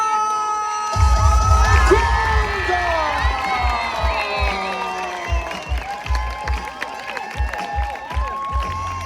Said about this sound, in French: Maximum d'applaudissements pour celle que l'on aime